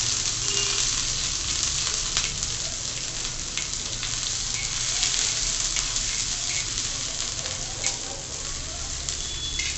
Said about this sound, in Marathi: ठेचलेला लसूण टाकते